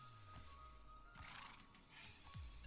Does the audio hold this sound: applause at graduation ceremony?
no